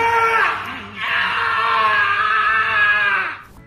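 A male actor screams at the top of his lungs during filming of a scene, two long sustained loud cries with a brief break between them, close and dominant.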